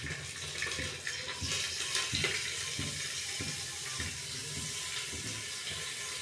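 Water running from a tap to wet potatoes before they go into a pressure cooker, a steady continuous splashing stream with soft irregular patters throughout, close and moderately loud.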